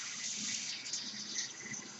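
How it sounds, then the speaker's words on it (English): Water from a can poured into a cooking pot on a home stove for pork and dumplings, a steady continuous splashing gush lasting the whole moment, close and fairly loud with no talking. "Put my 1 can of water in here."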